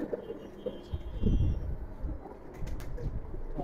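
Male high-flyer pigeons cooing in a loft, low throaty coos rising and falling across the stretch amid rustling and faint background noise.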